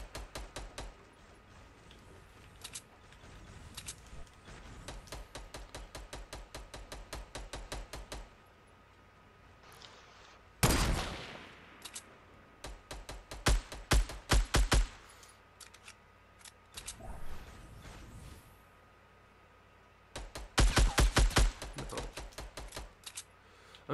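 Rapid bursts of gunfire in a shooting game as a player shoots down trees, crisp repeated shots in quick clusters separated by short pauses, mostly alone with little talk.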